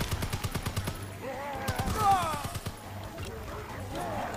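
A fast, regular stream of automatic gunfire in a zombie shooter game. It stops and starts in short bursts while someone talks excitedly over it.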